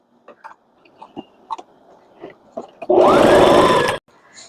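A sewing machine stitches a ruffle onto a Spanish-style apron with a criss-cross back. After a few soft handling clicks, it runs in one loud, steady burst of about a second, close up with no talking.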